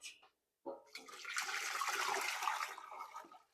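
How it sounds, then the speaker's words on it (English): Hot water left over from heating canning jars is poured into a canning pot for cranberry juice. After a short blip and a pause, a sustained splashing gush builds, holds steady and tapers off at the end. "And we're just going to pour it in, and it's going to give us that inch that we need."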